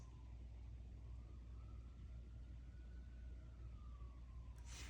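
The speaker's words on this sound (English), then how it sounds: "That's definitely fire engines." A faint fire engine siren wails in the distance over steady low traffic rumble, its tone slowly rising and falling.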